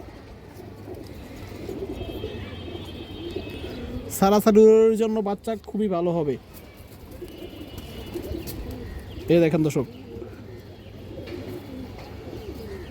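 A large, healthy female pigeon coos in a few drawn-out, throaty bursts close by, between stretches of someone talking steadily over it.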